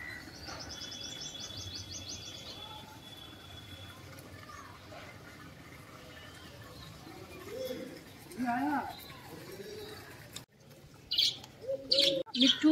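Birds chirp and coo intermittently in an outdoor home garden, a bird drinking water, with a few sharper calls near the end and people talking softly in the background.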